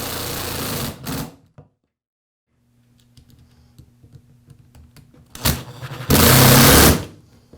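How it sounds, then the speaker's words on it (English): A cordless driver drives the gearbox screws into a Milwaukee cordless impact housing, with two short whirring bursts of the motor separated by quiet handling clicks and rattles, close up. "Now re-secure the gearbox screws."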